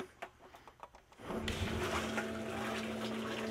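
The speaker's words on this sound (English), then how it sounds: "Alright, we're pumping water." A small water pump circulating water for mixing bee sugar syrup switches on after a few light knocks and runs with a steady low hum and rushing water.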